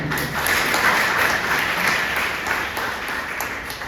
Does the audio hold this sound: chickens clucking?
no